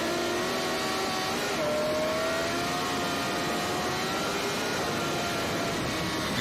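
Sport bikes race on a road, heard onboard as a continuous high engine whine that slowly rises and shifts in pitch, steady and moderately loud, with no talking.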